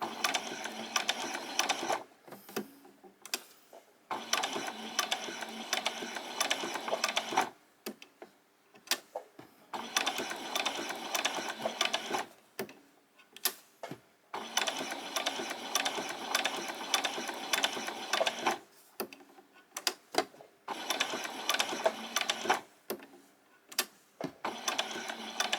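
A sewing machine runs slowly in repeated bursts while stitching a handbag around a curve, a quiet mechanical whirring clatter that pauses briefly between each stretch.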